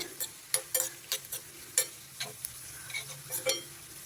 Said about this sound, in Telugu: చూసారా, తాలింపు చక్కగా వేగిపోతుంది.